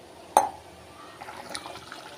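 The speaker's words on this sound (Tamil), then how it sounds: "உங்களுக்கு மோர் குழம்புக்கு எவ்வளோ தண்ணி வேணுமோ அவ்வளோ தண்ணி சேர்த்துட்டு நல்லா ஃபீட் பண்ணி வச்சுக்கோங்க." Water is poured into curd for Tamil buttermilk curry (mor kulambu), giving a quick splash followed by a soft trickle and faint sloshing, close and quiet.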